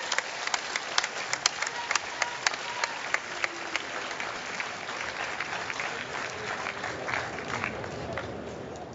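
A crowd applauds steadily at a gaming tournament in Toronto, with scattered sharp claps over a continuous wash of clapping, moderately distant.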